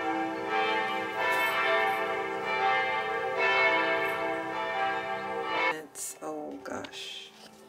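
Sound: church bells ringing in Germany

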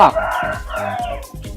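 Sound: chickens and birds at the neighbour's house

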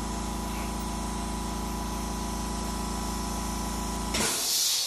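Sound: airbrush spraying paint on model

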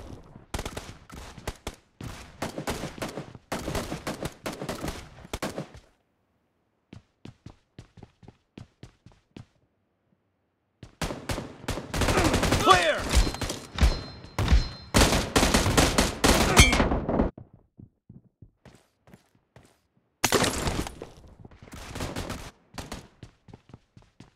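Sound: gunfire in PUBG Mobile video game

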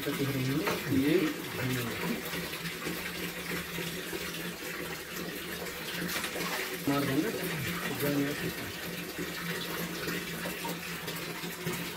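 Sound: water being drawn out of a snake-filled well

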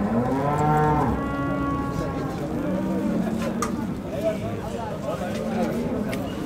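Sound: cattle and calves mooing at Konya livestock market

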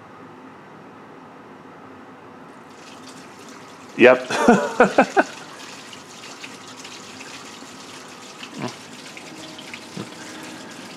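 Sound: water running down a pipe

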